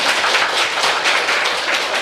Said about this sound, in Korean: 우리 박수 한번 쳐. 박수.